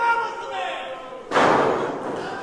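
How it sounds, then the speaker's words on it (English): A wrestler crashes down onto the ring mat during a championship match, a single heavy, booming thud midway, heard under a commentator's ongoing play-by-play. "Kicks Keith Mack right in the jaw, knocking him down."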